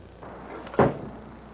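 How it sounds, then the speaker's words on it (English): A car trunk lid slams shut once, a single sharp nearby thud standing out against quiet background noise. "I slammed down the lid of the trunk."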